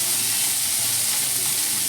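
Bread and potatoes fry in ghee in a pan, giving a steady, close, dense sizzle and crackle that holds without pause, with no voices.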